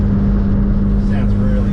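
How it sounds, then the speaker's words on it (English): A turbocharged Ford Falcon XB drones steadily from inside the car, a constant low engine hum with a strong tonal band and no break over the short span. "turbo's loud, it just sings."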